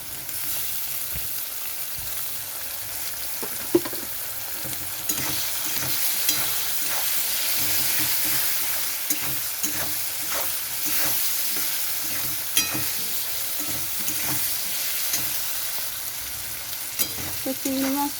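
Shrimp and potatoes frying in a pan with salt and turmeric, a steady close sizzle with scattered crackles and occasional stirring clatter, no talking.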